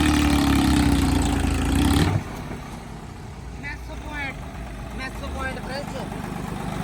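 A tractor engine rumbles loudly and steadily for about two seconds, then drops away to a quieter, distant background with people talking.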